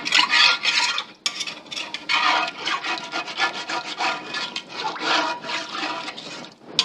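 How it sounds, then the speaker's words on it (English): A cast iron pan is scraped with water to deglaze it, a wet, gritty rasping that runs in steady back-and-forth strokes, close and fairly loud, with no talk over it. "Now I'm gonna put that water right into my pan here. You can even turn the heat back on if you want. And I start scraping that down."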